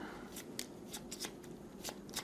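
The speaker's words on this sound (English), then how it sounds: "Shuffle our initiative cards." Initiative cards from a board game get shuffled by hand, giving a quiet series of quick papery riffles and flicks at an irregular rhythm, close and alone.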